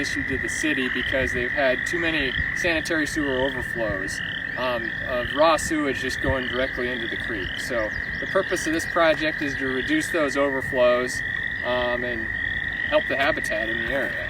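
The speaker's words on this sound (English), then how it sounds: "we've got frogs, there's geese in the background" Dense chorus of frogs croaking in a wetland beside a creek, rapid repeated calls over a steady high insect-like drone, with someone talking throughout over them.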